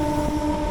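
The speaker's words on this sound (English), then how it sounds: "there's another local train which is just entering Howrah Station." A local train rolls into Howrah Station in Kolkata with a steady rumble, a sustained horn-like tone riding over the passing carriages.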